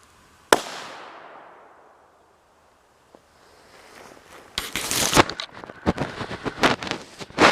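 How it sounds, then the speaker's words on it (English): A single sharp .17 HMR rifle shot cracks out nearby during an afternoon squirrel hunt, fired off a shooting stick, its report decaying over a couple of seconds before rustling and handling noises take over. "This is going to be a shot off this stick now with my back not against anything."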